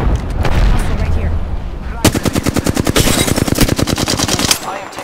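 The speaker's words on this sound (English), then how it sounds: "I am taking fire, friends." Flatline assault rifle fire in the video game Apex Legends, a rapid sustained automatic burst of evenly spaced shots lasting several seconds, loud and close, following a stretch of rumbling battle noise.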